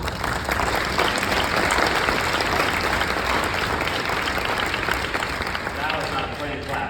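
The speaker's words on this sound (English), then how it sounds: "That was not a planned clap" An audience at a gala breaks into sustained applause, a dense wash of many hands clapping that fills the room, with some voices mixed in.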